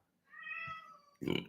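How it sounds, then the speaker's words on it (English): A single cat meows clearly and close by, a drawn-out call followed by a shorter, sharper cry. "You can hear the cat in the background"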